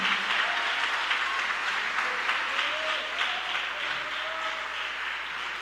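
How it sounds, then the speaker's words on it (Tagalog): A church congregation claps their hands together during a preaching service, sustained dense applause that stays steady and fairly loud throughout, with no clear speech over it. "Clap your hands, all ye people"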